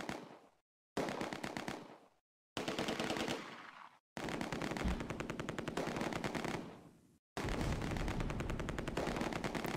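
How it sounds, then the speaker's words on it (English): Machine gun fire in a Close Combat battle near Arnhem's suburbs: loud, rapid bursts of automatic gunfire repeat in several long rattling strings broken by short silent gaps, with no talking. "Firing continues."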